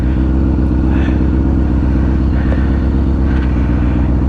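A motorcycle engine with about 10,000 miles on it gives a loud, steady, deep rumble at close range, holding a constant throaty drone throughout.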